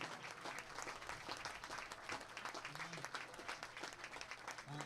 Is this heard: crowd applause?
yes